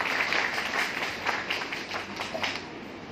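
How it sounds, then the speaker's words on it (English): An audience at an awards ceremony keynote claps in a sustained round of applause, a dense patter of many hands close by that swells slightly and then tapers. "A big round of applause for Jacob Sahab taking care of tribals of Khammam."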